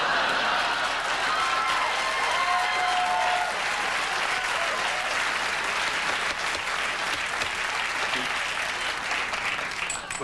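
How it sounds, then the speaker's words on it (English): A late-night talk show studio audience claps in loud, sustained applause that rolls on steadily for about ten seconds, with faint voices briefly audible underneath. "Got the applause done."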